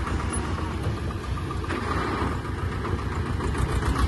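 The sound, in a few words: tractor engine idling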